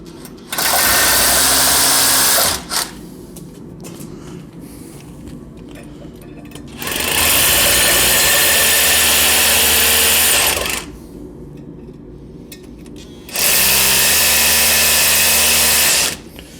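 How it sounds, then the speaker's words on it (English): A power drill bores down through holes to mark a concrete floor, running in three separate loud bursts of a few seconds each, with quieter pauses between them. "I'll just drill down through the holes a little bit, just to mark the concrete"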